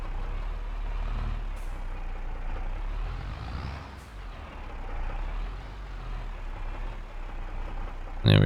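A truck hauling a trailer reverses and parks in Farming Simulator 25, with a low steady engine drone, faint reversing beeps and a sharp air-brake hiss at the very end, no talking.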